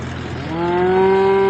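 A single cow lets out a long, rising moo, loud and close, swelling in strength over about a second.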